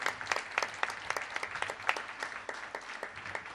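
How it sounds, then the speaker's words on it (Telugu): A church congregation clapping loudly during a Telugu sermon, a quick close-up run of steady claps lasting a few seconds. "కొట్టవయా చప్పట్లు గట్టిగా."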